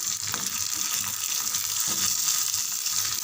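Chana dal and green chilies sautéing in hot oil, a bright steady sizzle with soft bubbling and occasional light stirring, close and continuous.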